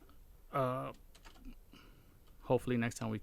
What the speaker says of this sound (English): I'm just typing here and talking at the same time